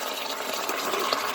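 Tap water runs steadily into a cooking pan, a continuous close splashing gush with no talking over it.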